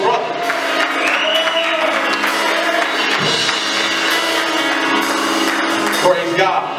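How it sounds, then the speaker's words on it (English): Church congregation applause and cheering for a drummer at a worship gathering, dense and steady clapping from a crowd throughout, with voices mixed in beneath a sustained musical tone. "I want y'all to clap it up for my brother, Pastor Gibson"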